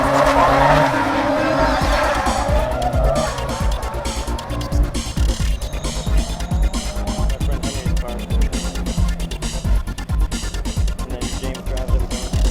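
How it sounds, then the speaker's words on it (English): A Munster Fabrication S14 drift car skids continuously with screeching tires and a roaring engine, loud and sustained throughout, with a commentator talking over it. "Coming in at number 13 was Casper Canoa, piloting the beautiful Munster Fabrication S14."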